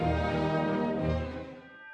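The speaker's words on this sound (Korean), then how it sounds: "흥겨운 왈츠가 계속되다가 자정을 알리는 종소리가 울립니다" Deep, ringing tones of a bell tolling midnight swell and sustain over an orchestra playing a lively waltz, then slowly fade, at the Vienna Philharmonic New Year's Concert.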